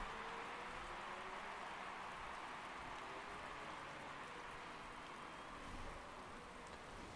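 Steady wash of rainfall in the Motorsport Manager racing game, a faint, even hiss of rain lasting throughout without breaks.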